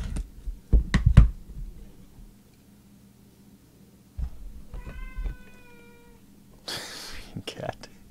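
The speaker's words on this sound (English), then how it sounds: "Cat." A cat meows once in a short, clear harmonic call, set among brief thumps, rustling and other handling noises nearby.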